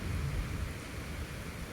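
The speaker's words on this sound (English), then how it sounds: "it's the trees and the rain." Rain falling steadily on trees in stiff wind, a dense close hiss of drops on leaves with a low, continuous thunder rumble beneath.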